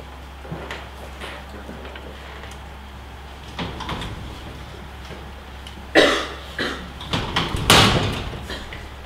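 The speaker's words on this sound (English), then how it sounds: "I never knew they locked the door." A door is shut and locked during a stage performance of 12 Angry Men, with a heavy thud followed by rattling latch and lock clicks amid scattered coughs and stage noise.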